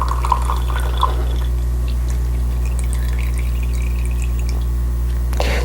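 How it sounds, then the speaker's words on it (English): A small piece of quartz is carefully lowered into water in a beaker, giving a few faint drips and soft plops over a steady low hum. "Let's say we wanted to find out the volume of this piece of quartz. Well, very simply, we just carefully drop it in."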